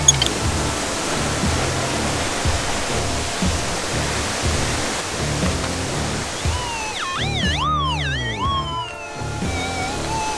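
A waterfall gives a constant broad rushing roar, steady and fairly loud throughout, with a brief warbling whistle-like tone passing over it near the end.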